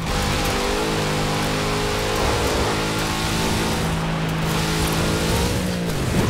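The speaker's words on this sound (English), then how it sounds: "Such power in the big Chevrolet engine." A big Chevrolet car engine in Forza Horizon 4 roars loud and near, holding a strong steady tone with rising and falling pitch as it works downhill, ending in a brief pitch dip.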